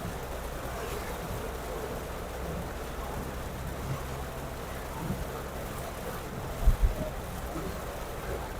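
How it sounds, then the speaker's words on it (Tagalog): Steady, dense thunderstorm rain hisses without a break, a broad wash of noise with a couple of brief low thumps near the end. "kapag ganitong malakas ang ulan"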